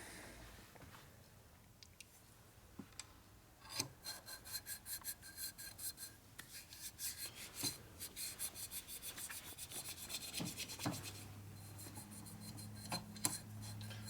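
Hand sanding an engine part from a 1961 FL 74ci panhead motor with abrasive grit, rapid rhythmic rasping strokes close by, building in a steady back-and-forth pattern, then tapering off.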